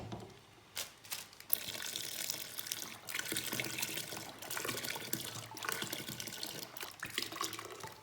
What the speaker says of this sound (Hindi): और अभी मैं इसमें डाल रही हूँ दूध।